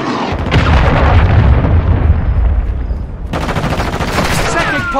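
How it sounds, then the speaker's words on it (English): A cruise missile strike in Call of Duty Modern Warfare 2: a loud, heavy explosion with rumbling booms and crackling gunfire-like bursts that fill the whole clip, close and dense, with a brief whistling tone near the end. "Hostile cruise missile incoming."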